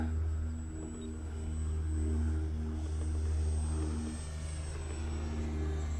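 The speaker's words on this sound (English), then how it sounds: "And the plane feels fantastic." A Dynam T-28 Trojan RC plane on its maiden flight drones steadily overhead, a continuous motor and propeller whine with a slow swell and fade as it passes at moderate distance.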